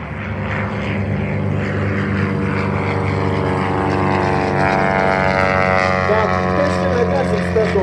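A Marchetti propeller airplane flies over an air show in Bremerton, a steady loud engine drone with rising harmonic tones as it passes, with a voice talking over it.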